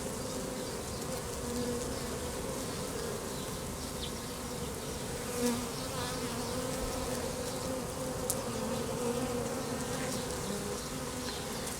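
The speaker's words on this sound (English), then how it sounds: "I'm starting to have some bees come up through the frames" A honeybee swarm drones steadily inside a hive box as the bees move up through the frames, a dense, even buzz close by with no talk.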